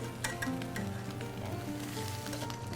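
Butter sizzles steadily in a hot pan before sea scallops are seared, a soft continuous frying hiss with faint scattered crackles and no talking.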